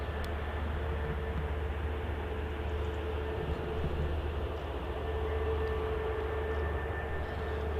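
An aircraft rolls on the runway at Manchester Airport with a steady, continuous engine roar and hum that holds at an even level throughout, with no voices heard.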